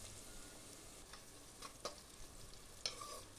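Chopped ginger, garlic and onion frying in a pan for a mutton trotter soup, with a faint steady sizzle and a few soft stirring scrapes and clinks, quiet and close, with no talk.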